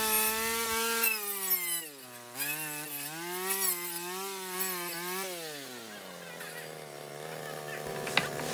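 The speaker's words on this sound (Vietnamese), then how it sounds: "đang dùng máy cắt cành để cắt những cành gai này nhỏ hơn, giúp cho Thomas dễ dàng bê lên trên vườn" A powered branch cutter slices through thorny branches in a garden, its motor giving a close, steady whining buzz that rises and dips in pitch as it bites into the wood.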